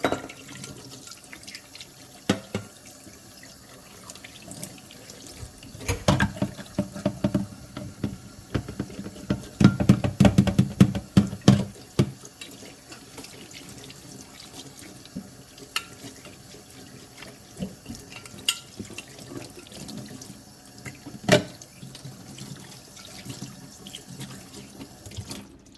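Tap water runs into a sink while a copper water bottle is rinsed, a steady splashing stream with louder gurgling bursts around the middle, close and alone without voices.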